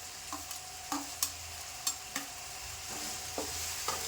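Garlic, green chilli and onion frying in a pan while a spoon stirs them, giving a steady sizzle with a series of sharp scraping clicks at irregular intervals, close and fairly quiet, with no voices.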